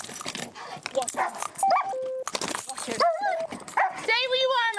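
A police dog barks and yelps in sharp bursts during a chase at a farm complex, mixed with shouting voices, with whimpering and whining rising near the end.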